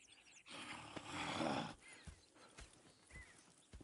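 Horses in the open-world Western game Red Dead Redemption 2 snort and whinny amid clip-clopping hooves, close and fairly quiet, with a louder burst of horse noise early on followed by scattered hoof steps.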